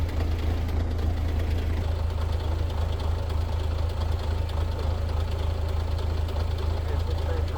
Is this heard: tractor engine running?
yes